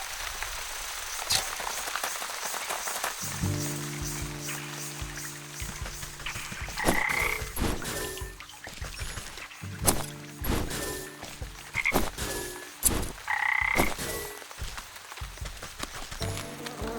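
Frogs croak in a swamp in the video game Wytchwood, a few short croaking bursts repeating at mid distance over a steady ambient game background with music-like tones.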